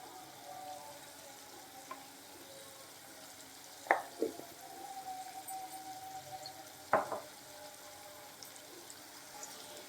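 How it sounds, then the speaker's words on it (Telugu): Vegetable pieces for pulao fry in a pan with a soft, steady sizzle, quiet and close, with a couple of sharper stirring clatters and no voices. "ఒక 5 మినిట్స్ ఇలా ఫ్రై చేసుకోండి."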